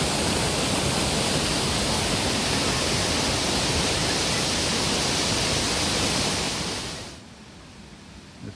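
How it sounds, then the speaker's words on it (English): The steady, full roar of Moxie Falls, a waterfall in the woods, is heard from the top of the falls, loud and unbroken for about seven seconds before dropping away to near quiet. "Moxie Falls, straight from the top of the falls."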